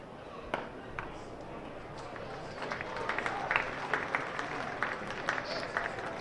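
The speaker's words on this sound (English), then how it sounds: "Knowledgeable crowd. Dot ball gets a clap." Crowd applauding after a dot ball at a Glamorgan versus Sussex Sharks T20 cricket match, scattered light clapping from a distant stand, rising slightly, with commentary voices over it.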